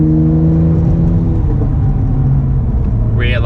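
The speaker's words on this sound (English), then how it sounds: "Blow off valve sounding real sweet on the exhaust note." A Honda NSX exhaust drones low and steady with a rising engine tone, and a brief blow-off valve whoosh near the end, heard from inside the moving car.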